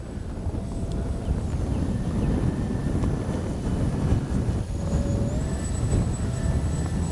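Steady wind buffeting the microphone, a constant low roar with a faint whine from a radio-controlled jet's turbine engine running through it, no voices.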